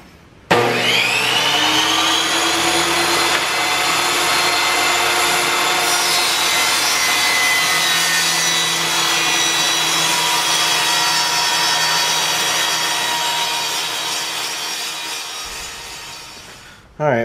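A power saw cuts through wood to trim a tabletop piece for a homemade cargo-trailer cook table, a loud continuous whining buzz that starts abruptly and holds steady for about fifteen seconds before winding down and stopping.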